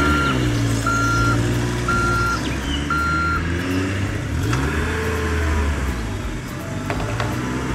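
Toy truck on a play farm emitting a steady series of reversing beeps, four evenly spaced tones over a background of engine rumble and music-like tones.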